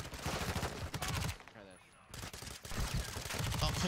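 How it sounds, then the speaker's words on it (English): Rapid bursts of gunfire crackle in a shooter video game, dense and loud, breaking off for a moment in the middle before the shooting resumes just as heavily. "Where are you shooting me from?"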